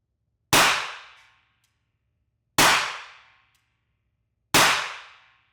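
A British revolver is fired double action three times at even two-second gaps. Each shot is a sharp, loud crack that fades into a short ringing decay, with quiet between the shots.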